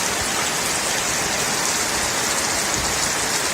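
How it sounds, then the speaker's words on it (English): Steady, dense rain hissing down onto a surface, close and fairly loud, with no voices or other sounds breaking through. "If this rain keeps up,"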